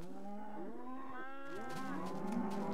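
Cows moo on a cow farm inside a video game, with several drawn-out, overlapping moos in steady succession and no talking.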